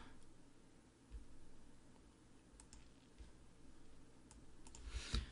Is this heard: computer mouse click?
yes